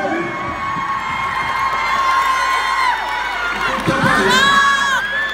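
An audience cheers and shouts with high, excited voices after a choreography performance, a loud, continuous crowd roar with whoops rising near the end.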